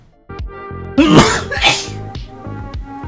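A single loud, close sneeze bursts out over faint background music, followed by a brief breathy catch.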